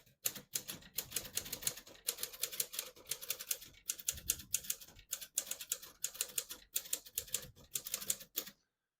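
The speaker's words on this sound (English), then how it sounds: "I'll type a sentence in red on the next line and switch from black to red." Rapid, crisp clacking of a 1937 Corona Silent portable typewriter's keys in uneven bursts, with brief pauses between words and a few louder strikes.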